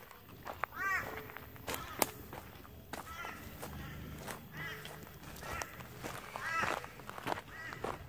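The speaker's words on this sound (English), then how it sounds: "Crows are crowing." Crows caw at night in a cemetery, several harsh, repeated calls at middling distance over low background rumble and occasional footsteps.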